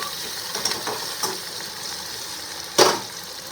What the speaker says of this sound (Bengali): ভাজা হচ্ছে, তার মধ্যে টমেটো, এই যে টমেটো স্লাইড করে কাটা, টমেটোগুলো নেড়ে নেব।